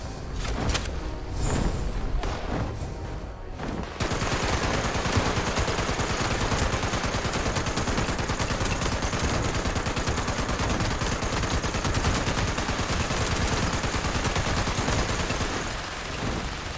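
Sustained, dense automatic gunfire from the Fallout 76 video game, starting abruptly after a few seconds of quieter sound and then rattling on loud and continuous, with heavy rapid bursts that barely pause.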